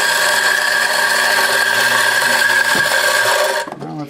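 A Mazzer Super Jolly coffee grinder runs with a loud, steady motor whir and buzzing hum, then winds down and stops near the end, followed by a few faint clicks.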